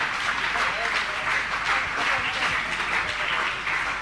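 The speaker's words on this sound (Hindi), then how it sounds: "आपकी तालियां इनके सम्मान के अवदान के रूप निरंतर बजती रहें" Audience applause at a Jain religious question-and-answer gathering, a dense, steady wash of many hands clapping that holds evenly throughout without pause.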